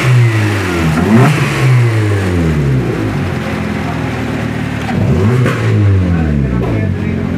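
A Maruti Suzuki car engine just started and revving, repeated rising and falling revs over a steady running hum, loud and close.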